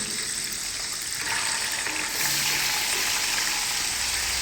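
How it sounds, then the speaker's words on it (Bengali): Three garlic cloves frying in oil in a pan until reddish, for a fish bharta: a loud, continuous close hiss and crackle that swells slightly partway through, with no voices. "3টা রসুন একটু লাল লাল করে ভেজে নেবেন।"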